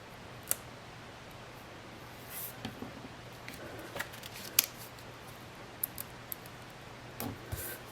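Scissors snipping paper for a Polaroid craft, a few quiet, scattered clicks and cuts spread over a low steady room hum.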